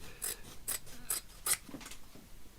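Scissors snip through the fabric of a festive stocking in a quick run of five or six crisp, close cuts, each a short rasping bite, with no talking.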